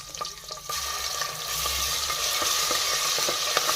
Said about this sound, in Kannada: ಎಣ್ಣೆ ಒಳಗೆ ಹಸೆಕಾಯಿ ಹಾಕೊಂಬಂದು